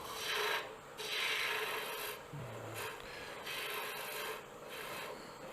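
A wooden finial being tapered on a lathe gives a rough rasping scrape in several sustained passes with short gaps, close up and fairly loud, with no voices.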